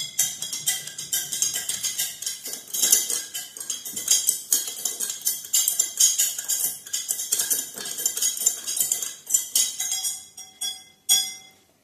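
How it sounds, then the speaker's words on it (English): A metal spoon stirs sugar into a glass of water, producing rapid, bright clinking against the glass in a near, busy rhythm that slows and breaks off into a few final taps. "Now I'm going to mix some sugar into my second glass of water."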